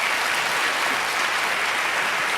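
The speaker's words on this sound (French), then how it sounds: "On les applaudit bien fort." Studio audience applause at a Quebec reality TV show, a dense, steady wash of clapping filling the room at full level for the whole stretch with no voices over it.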